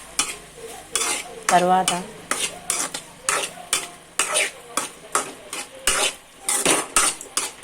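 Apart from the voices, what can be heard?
stirring turmeric into curry in pan with spoon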